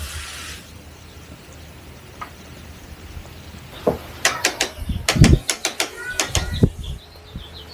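A garden sprinkler system switching on after a few quiet seconds, then a burst of rapid mechanical ticking and spraying pulses that grows busier and fairly close, with no talking.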